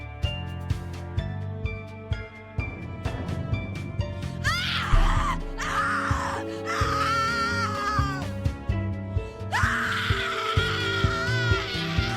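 A shrill, drawn-out scream from a character in the horror game The Cat Lady rises in several wailing bursts over a dark, droning musical score.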